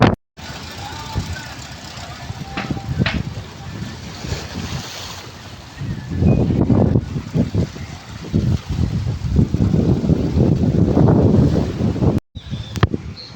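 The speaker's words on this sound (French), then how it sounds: "Il y a toujours du vent aussi de ce côté-là." Off-season wind on the coast at Búzios near Rio de Janeiro, loud gusty buffeting across the microphone with surf-like roar swelling and fading throughout, no clear talk.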